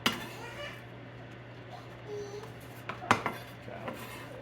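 Quiet clinks and light knocks of a knife and dishes being handled while laying out for a homemade organic pest-control batch, with a sharper clatter near the end over a low steady hum.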